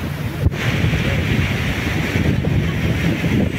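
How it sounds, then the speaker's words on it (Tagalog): Strong wind at a beach on Boracay Island in the Philippines, a constant loud roar buffeting the microphone, with surf washing underneath. "Kasi malakas yung hangin."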